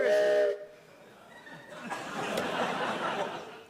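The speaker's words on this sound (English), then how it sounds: "What was that whistle noise? What was that? Yeah, meant to be the train, Alan." A short, loud whistle blast like a train whistle opens, then fades into a murmur of chuckling and laughter from a crowd.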